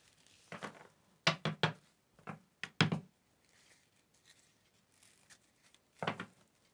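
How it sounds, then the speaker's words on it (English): Tarot cards shuffled in several quick bursts of crisp riffling and slapping, with short pauses between, close and fairly quiet. "I'll do a quick shuffle."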